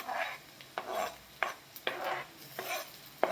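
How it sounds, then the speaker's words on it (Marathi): Onion, green chili and tomato roasting together in a pan for a sprouted moth bean curry, a soft sizzle broken by intermittent scraping and stirring strokes of a spoon, close and fairly quiet, no voices. "मिरची आणि टोमॅटो भाजून घ्यायचे आपल्याला कांद्याबरोबर"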